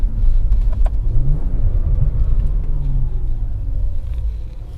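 A BMW 335i with the N54 engine and a hybrid turbo pulls away in first gear with boost limited, giving a steady, loud low rumble with a rising engine tone through the run.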